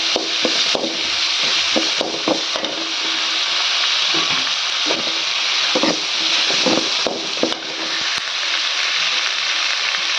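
Crushed tomato and ginger frying with sautéed onions, a loud constant sizzle broken by repeated stirring scrapes and clacks of a utensil in the pan.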